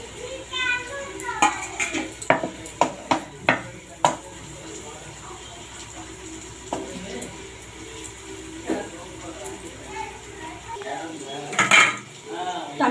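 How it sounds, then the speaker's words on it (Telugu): Sliced onions and green chillies frying in a pan are stirred with a spatula, giving a string of loud metallic clinks and scrapes over a low sizzle, with voices and a child heard in the background. "ఆనియన్ పచ్చిమిర్చి వేసిద్దాం."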